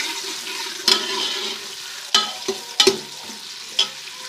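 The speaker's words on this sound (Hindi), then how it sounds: "प्याज को करते हैं फ्राई।" A chopped medium-size onion fries in hot ghee with a steady soft sizzle, broken by several sharp clinks and scrapes of stirring close by.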